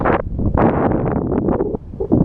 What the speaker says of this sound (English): there goes that wind. The ever-present left edge wind.